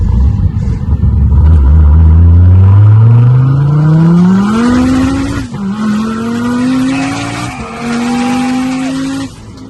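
A roughly 2000-horsepower Dodge Viper accelerates hard, its engine note rising steadily through the gears with brief dips at each shift, loud and close with a raw, strained roar and no talking.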